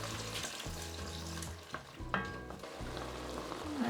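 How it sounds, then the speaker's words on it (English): Red wine poured into sizzling marinated steak pieces in a hot pan for a slow-cooked steak ragu, giving a steady close frying hiss with stirring clatters and a brief sharp burst partway through, with no talking. "Same wine I used to marinate the meat, I will be adding it to the mix now."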